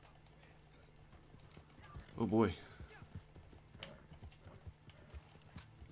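Horse hooves clip-clop in the video game Red Dead Redemption 2, loose irregular footfalls around a loud whinny near the middle. Someone speaks briefly.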